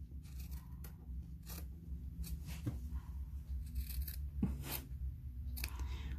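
Small embroidery snippers cutting fabric for a sewn crossbody bag give a series of quiet, crisp snips at irregular intervals over a faint background hum.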